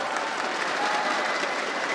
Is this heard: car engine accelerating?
no